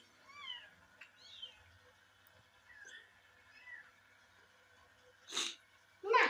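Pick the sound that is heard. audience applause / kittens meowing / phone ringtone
kittens meowing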